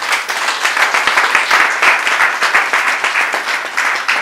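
A church congregation applauds in praise of Jesus, a dense, steady wash of many hands clapping loudly and continuously throughout, with no pauses.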